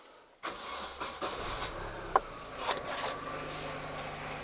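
A car fitted with LPG gas equipment cranks and its engine starts, then settles into a steady idle hum close by, with a few sharp clicks and knocks over the running engine.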